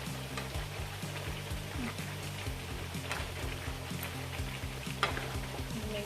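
Chicken pieces for Jamaican stew chicken sizzling in a pot, a steady crackling fry with scraping stirs and a brief clank, fairly quiet and without talk.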